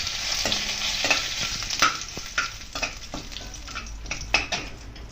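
Curry leaves fry in a pan for chickpea masala, giving a crackling sizzle broken by repeated clanks and scrapes of a spatula against the metal, close and fairly loud.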